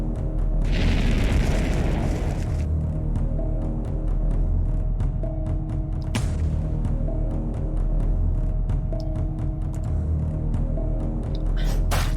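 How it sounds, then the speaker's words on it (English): Fire skill attack in a Unity-made video game: a loud roaring, whooshing burst in the first few seconds over a constant low game rumble, then a second sharp hit partway through, with no talk. "if I use the fire skill here, it will do a lot of damage to the enemy"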